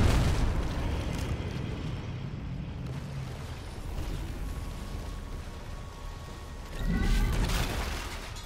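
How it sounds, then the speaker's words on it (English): Explosions in the Dead Space Remake, played on hard difficulty, come as dense rumbling booms and debris noise lasting several seconds, with a fresh heavy blast near the end and no speech. "Explosions."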